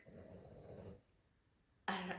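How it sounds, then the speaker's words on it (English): A dog snores close by in two rough, rumbling breaths separated by a short quiet pause. "my dog is snoring"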